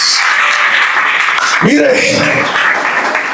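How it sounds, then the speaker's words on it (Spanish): An audience gives a short burst of applause for a pastor at a motivational youth talk, dense clapping that soon fades under a voice speaking. "un aplauso para este hombre"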